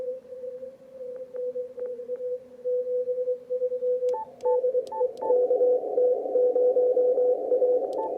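Clean Morse code tones on a Yaesu FTdx5000MP with audio peak filter and digital noise reduction, keyed in quick dots and dashes over quiet radio static, sharpening as a second signal briefly joins in.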